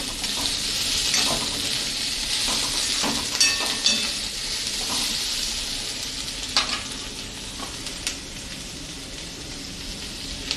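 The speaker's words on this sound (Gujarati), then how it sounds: "ધીમા ગેસ ઉપર બધા મસાલાને પાકવા દેશું." Spices for a spring roll filling sizzle steadily in a pan over a low gas flame, a soft continuous frying hiss with occasional light clinks and stirring sounds, close and alone without talk.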